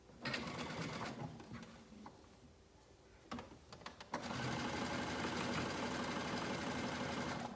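Sewing machine stitching elastic onto a swimsuit, with bursts of close, rapid needle chatter broken by short pauses and clicks, then a longer steady run of stitching at the end.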